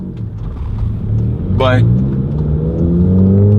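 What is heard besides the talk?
VW MK7 GTI accelerating through the gears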